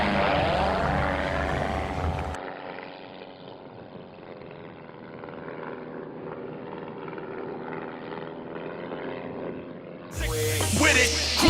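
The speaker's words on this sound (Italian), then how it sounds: "Aereo tedesco, tutti a terra!" A German military propeller airplane flies overhead, its engine drone rising then holding as a steady, fairly loud hum for several seconds before louder sounds cut in at the end.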